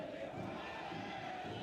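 Club Deportivo Fas supporters at a football match against ADM Perez Zeledon roar and chant as a dense, continuous crowd wash, sustained and fairly distant with no individual voices standing out.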